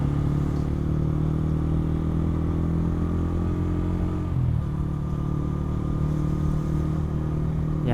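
A motorcycle engine drones steadily and loudly throughout while riding on a road, close to an action-camera microphone, with no speech.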